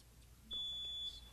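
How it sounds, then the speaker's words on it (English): A high-school quiz show buzzer rings in once with a single sharp electronic tone lasting about half a second, clear against a quiet room. "please ring in with the buzzer"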